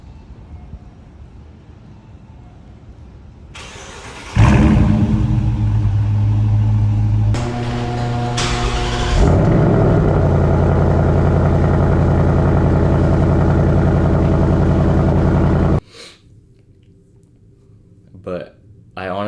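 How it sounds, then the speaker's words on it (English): A 2018 Dodge Challenger R/T Plus exhaust starts and rumbles loudly, followed by a 2023 Mustang GT Premium revving and idling with a strong, steady engine drone, ending abruptly with only faint background noise. "I'll play a clip of the Challenger and then the Mustang right here."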